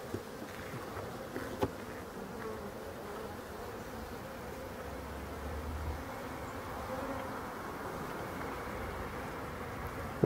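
Black honeybees buzzing around hives in Brittany, a steady low hum of many insects close by, continuous and fairly quiet with a few small knocks.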